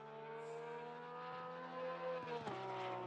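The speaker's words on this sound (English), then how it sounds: "Such a great sounding car" A GT3 race car engine from Assetto Corsa Competizione holds a loud, steady, sustained drone, then dips and shifts pitch near the end as the gear changes, with no talk.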